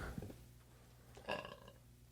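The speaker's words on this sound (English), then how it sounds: "I burped." A single burp about 1.3 seconds in, set against a quiet room hum with a faint earlier mouth sound, in a casual podcast conversation at home.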